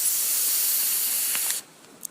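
A vape hisses steadily for about a second and a half during a French inhale, then cuts off sharply into near silence, followed by a couple of faint clicks.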